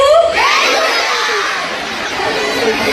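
Students at Mahatma Phule college in Pimpri roar and cheer for the Kurla to Vengurla film team, a loud, steady wash of shouting voices with a few higher whoops.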